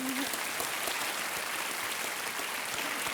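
Studio audience of a TV quiz show clapping steadily and densely throughout, a continuous wash of applause with a brief tonal note at the very start.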